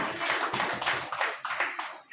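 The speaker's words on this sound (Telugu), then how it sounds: "దేవుని ఒకసారి గట్టిగా చప్పట్లు కొట్టాడు" A church congregation claps loudly together during a Telugu sermon on children's duty toward parents, a dense, steady burst of many hands striking at once, close and sustained, with a few voices mixed faintly underneath.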